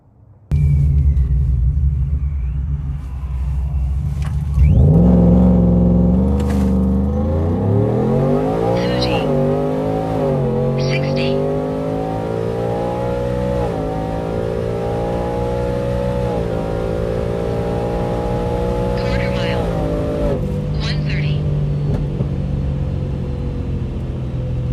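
A supercharged 2025 Ford F-150 pickup with a 5.0 V8 idles low, then revs and accelerates hard in a long sustained pull, engine pitch climbing steadily and loud throughout, with a few brief faint voices.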